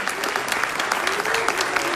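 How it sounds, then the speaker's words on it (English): An audience at a town hall applauds in a steady, full burst of clapping, fairly loud and sustained from start to finish, with a faint voice beneath. "One more round of applause for everybody."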